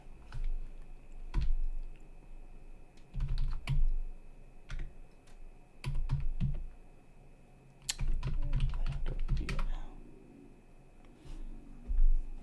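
Keys clatter on a computer keyboard during setup of a Raspberry Pi smart car kit, arriving in short bursts of typing separated by brief pauses, close and fairly clear with no speech.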